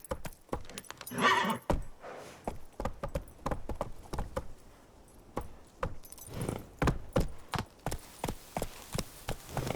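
The horse Roach gallops in The Witcher 3, with quick rhythmic hoof clops on hard ground and a jingle of tack near the start, close and steady throughout.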